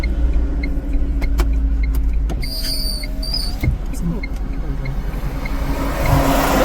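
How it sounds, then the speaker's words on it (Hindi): Cars pass steadily along a highway on a route toward Delhi, making a continuous loud road roar heard from close by. Faint engine tones rise and fall within it, and a whoosh builds near the end. "ये हाईवे है, पता है मुझे।"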